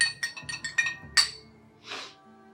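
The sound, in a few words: stirring a bourbon old fashioned in a glass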